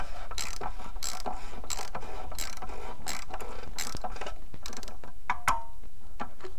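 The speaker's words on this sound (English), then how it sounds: "then we'll just snug it up with the wrench" A ratchet wrench snugs up the oil filter on a Jeep JL, a close series of quick, even clicks repeating in a steady rhythm, with a brief metallic ring near the end and no talking.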